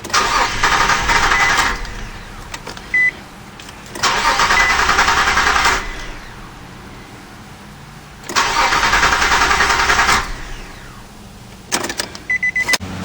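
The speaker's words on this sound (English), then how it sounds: "to depressurize the system, crank the car a few times" Repeated cranking of a 2003 Nissan Xterra engine, loud broadband bursts of a few seconds each separated by quieter pauses, with short electronic chime tones between cranks and no talking.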